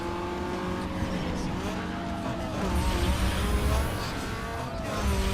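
A Nissan 350Z and Mazda Miata race in Need for Speed Underground 2, with steady high-revving engine whine, shifting gear tones and occasional tire squeal, continuous and close throughout.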